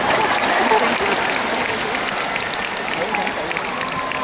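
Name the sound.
concert audience applause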